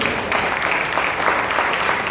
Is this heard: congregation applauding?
yes